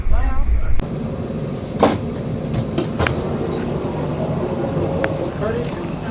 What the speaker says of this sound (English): Train's very quiet, very comfortable